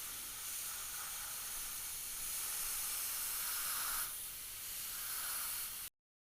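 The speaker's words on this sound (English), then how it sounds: "keep the airbrush as perpendicular as possible, just so you don't start spraying at an angle and getting paint underneath the stencil" An airbrush sprays a heavier coat of paint onto a T-shirt stencil at home, a steady close hiss with a brief break in pressure, ending abruptly in silence.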